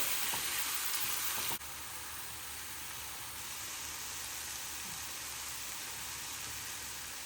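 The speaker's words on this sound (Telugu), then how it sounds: "చూడండి ఇక్కడ బ్రెడ్ కూడా కాలుతా ఉంది" Bread toasting dry in a hot pan with no butter for a spinach sandwich, giving a steady, even hiss close by that drops slightly after a soft clatter near the start, with no talking.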